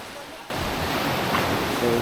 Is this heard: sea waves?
yes